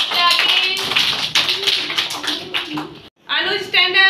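Young LKG children in a classroom clap in quick bursts, a rapid patter of many small hands that pauses briefly and then starts again, heard close by.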